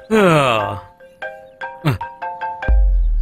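A mobile phone ringtone plays a series of short, bright electronic tones in an evenly spaced melodic pattern, preceded by a drawn-out vocal groan and ending with a low, heavy thud.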